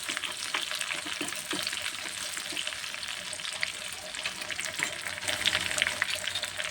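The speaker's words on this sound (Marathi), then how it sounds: "लसूण अद्रकची पेस्ट, हे कळसून घ्यायचं आहे" Garlic-ginger paste frying and being stirred in a pan for a puri rasa dish, giving a steady, close sizzle broken by occasional scraping strokes, with no talking.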